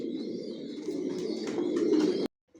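Adult racing pigeons cooing steadily, a low throaty murmur of overlapping coos, close by, then an abrupt cut to near silence at the end.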